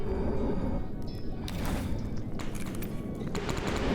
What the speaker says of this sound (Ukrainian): О, стрілянина десь.